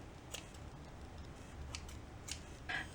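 Scissors snip through crochet yarn while a spiky coaster is finished: a few quiet, brief cuts spaced irregularly over a low, steady room hum, with no talking.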